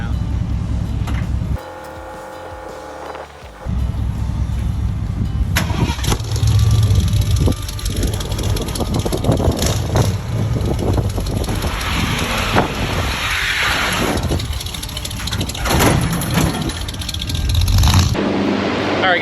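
A 1978 Ford F150 pickup cranks and catches, then its engine idles and revs as the truck rolls down loading ramps off a trailer, loud and close, with some voices nearby.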